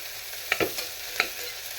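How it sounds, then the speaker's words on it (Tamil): Spoon clacks against a pan a few times over a soft, steady sizzle of vegetables sautéing in oil for rice upma, close and fairly quiet. "இதுவும் காயும் கொஞ்சம் வதங்கணும்"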